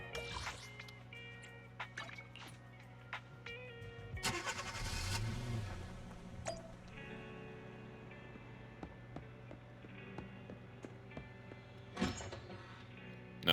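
A car door shuts and an engine starts and idles in the video game Zenless Zone Zero, with a loud surge of engine noise midway, then steady running under scattered clicks and soft drips.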